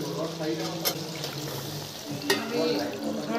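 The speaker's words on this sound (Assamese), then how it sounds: "আলুটো ফ্ৰাই হৈ আছে অলৰেডি।" Potatoes frying in mutton masala gravy, a steady close crackling sizzle with a couple of sharp clinks of a utensil stirring in the pan.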